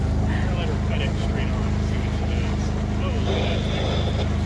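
A small boat on the Salish Sea rides through the wake of a passing vessel, with a constant loud engine rumble, wind and water noise, and splashing of waves against the hull.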